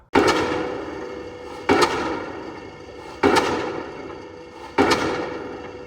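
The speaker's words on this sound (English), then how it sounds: "this banging is this hydraulic pile hammer" Hydraulic pile hammer at a construction site, driving a foundation into the ground: four loud, heavy bangs spaced about every 1.5 seconds, each with a sharp impact that rings and slowly decays into the next.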